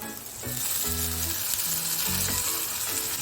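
Loud, steady sizzling and frying of masala in a pan just after two spoons of water are added, with a few low clanks of a utensil stirring underneath.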